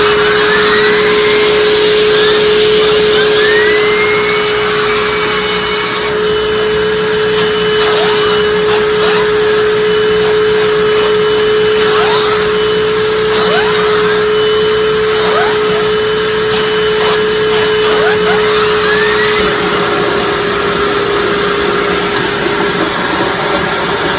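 A Hoover WindTunnel Self Propelled Anniversary U6485900 vacuum cleaner runs with its turbo brush attached, giving a loud, steady whine and motor drone with a sustained tone. The brush scrapes and rustles faintly over it, and the pitch shifts slightly near the end.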